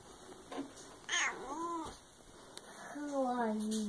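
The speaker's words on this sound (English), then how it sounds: "Yeah, come pet the kitty." A cat meows several times, rising and falling wails close by, with quiet voices in the background.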